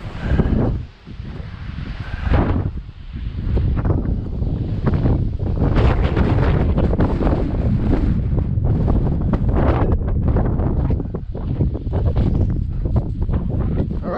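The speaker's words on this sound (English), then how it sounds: "That wind is something." Strong, steady wind at Brantley Lake, New Mexico, buffets the microphone in loud, continuous gusts with rumbling low roar throughout, no voices heard.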